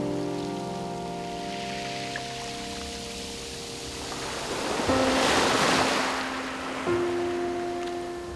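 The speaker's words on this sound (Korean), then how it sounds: "조약돌은 파도에 휩쓸릴 때마다 그 색이 한층 짙어진다." Waves wash over red pebbles on the beach at Sveti Stefan in Montenegro, a steady surf hiss that swells into a louder surge midway, heard beneath sustained musical tones.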